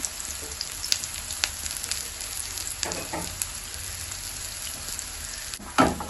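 Bread frying in oil in a pan, a steady close sizzle with scattered crackles and pops, a couple of soft scraping stirs midway and a louder clatter near the end.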